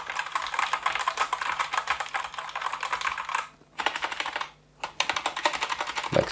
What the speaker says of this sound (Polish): takie lekkie pyknięcie aktywuje klawisz i takie całkowite wciśnięcie mocne też go aktywuje